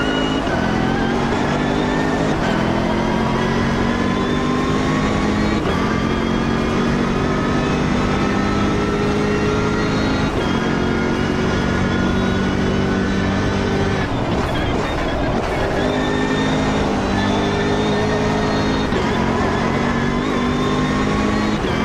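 A BMW race car engine in a racing video game holds a steady, loud high-pitched drone for the full length, with its pitch climbing and dropping briefly at gear shifts.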